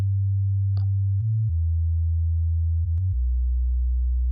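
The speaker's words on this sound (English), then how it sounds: "There's just a sine wave." A low, pure synth sine tone sounds continuously, stepping between a few pitches with faint clicks at the note changes.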